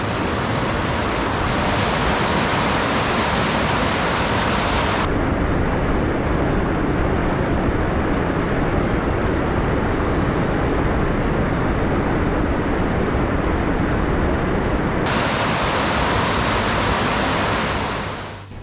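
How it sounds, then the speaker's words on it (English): The swollen River Witham runs high, a loud, steady rushing roar that holds unbroken from start to finish with no voices or pauses. "The river's pretty high."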